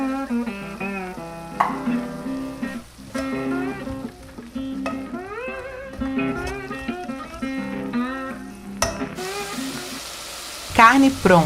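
Ground beef sizzles in a pan with olive oil, cumin, smoked paprika and salt, a continuous frying hiss with stirring sounds that sits beneath prominent background music.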